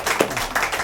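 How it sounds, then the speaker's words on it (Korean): A few quick hand claps sound near the mic during a small Buddhist dharma talk, sparse and uneven, with a voice faintly present underneath. "박수."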